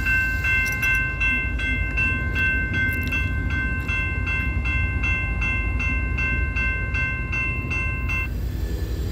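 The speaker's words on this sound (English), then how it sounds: "Comes a train." A Norfolk Southern train rumbles past with a steady rhythmic clatter while a long horn blast sounds almost throughout, loud and close.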